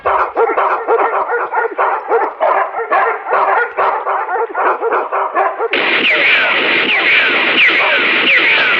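Several dogs bark in rapid, overlapping bursts, loud and close, and the barking turns into a denser, more frantic chorus partway through.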